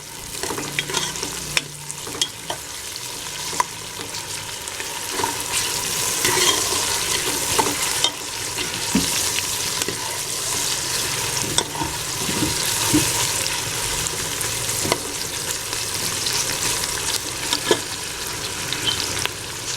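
Chopped onions fry in two spoons of cooking oil for a beef trotters paya curry, giving a steady close sizzle with frequent spatula stirs and scrapes throughout, and no voices.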